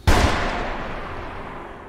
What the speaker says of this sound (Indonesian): Namun Chen tidak menjawabnya dan langsung menembak si Hongki hingga tewas.